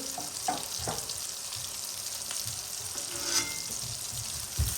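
Eggplant sizzles steadily in hot oil while being deep-fried for a Skanda Sashti fasting meal, a close, continuous crackling fry with occasional louder pops and stirring.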